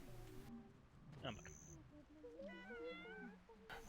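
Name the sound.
cat meowing in the video game Black Desert Online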